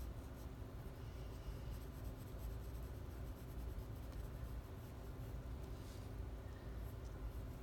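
A steady, soft scratchy rasp of pencil rubbing across paper, continuous and faint, with a low background hum.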